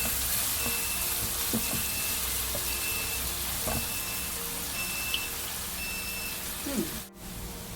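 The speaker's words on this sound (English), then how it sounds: "So I'm going to stir fry this for 2" Two sliced medium onions stir-frying in a pan for prawn biryani, a steady close sizzle with a faint steady tone, a few scraping stirs, and a brief clatter near the end.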